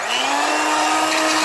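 A steady electric mixer whirs continuously while beating eggs, one at a time, into a sugar mixture for soft petit four cookie dough, its motor drone loud, close and unbroken with no talk.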